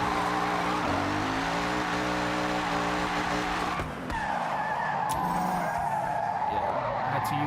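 Tires squealing through a handbrake drift in Forza Horizon, a loud continuous skid over a droning car engine, with a brief dip midway before the screech resumes.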